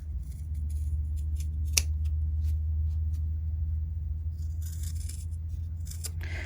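Scissors snipping fabric for a folded triangle coaster, a few sharp crisp cuts over a steady low hum, close and fairly quiet, with no talking.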